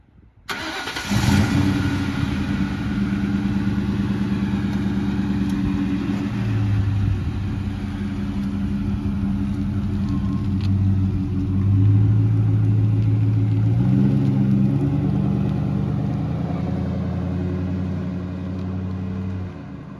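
A 2004 Ford Mustang GT automatic starts up and drives along a street, its V8 engine a deep steady drone that swells as it moves closer, with no talking.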